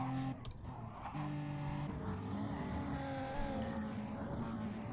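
A BMW touring car engine in a sim racing game holds high revs, its steady tonal whine shifting slightly in pitch as gears change, loud and continuous without any voices.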